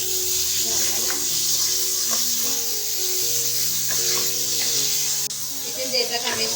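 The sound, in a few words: mutton mince being roasted in a pan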